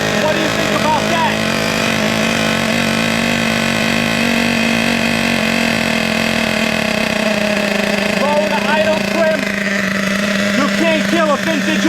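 An Ofna Twin Titan RC car with dual .26 nitro engines idles loudly and steadily, a continuous buzzing drone that holds throughout with no pauses.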